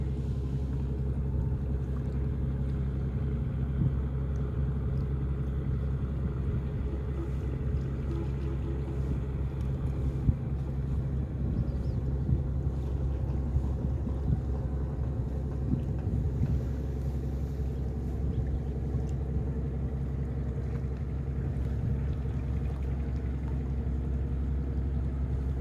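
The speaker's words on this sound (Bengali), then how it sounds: "মাঝে মাঝে একটি শিপ আসে, মানে বালু বোঝাই করে আসে।" A ship loaded with sand passing on the water, heard as a continuous low engine rumble and hum with wind buffeting the microphone, steady and fairly loud for the whole stretch with no voices.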